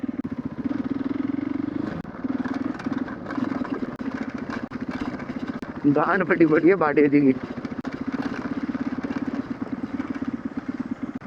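Motorcycles being ridden down a steep slope near Chakrata, with a steady mid-pitched engine drone throughout and a louder revving burst partway through, under a voice talking.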